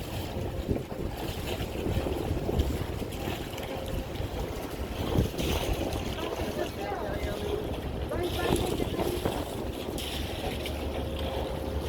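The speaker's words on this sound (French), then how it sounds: "Jusque là tout va bien, à part un fort vent qui s'engouffre quand même" Strong wind gusts into a Panama Canal lock around a sailboat, a loud, rushing roar buffeting the microphone, with water noise beneath and a voice talking under it.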